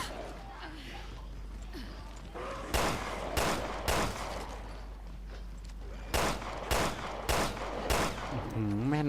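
Gunfire in the video game Resident Evil Revelations 2 comes as sharp single shots, first a cluster of four, then another run of about five, over a low steady game hum.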